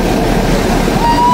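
Ocean waves and rushing water on a beach at Akkaraipattu, Sri Lanka, a close, loud, continuous wash of surf with wind noise on the microphone.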